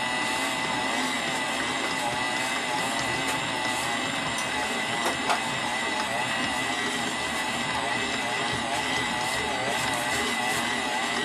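An electric mixer churns wheat-free dog treat dough in a steady, continuous whir that holds level throughout and stays loud and close.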